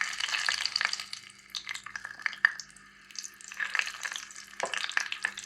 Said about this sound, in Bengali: মিনি চুলায় রান্না করলে রান্নার যে শব্দটা অরিজিনাল এটা শুনতেই কিন্তু ভালো লাগে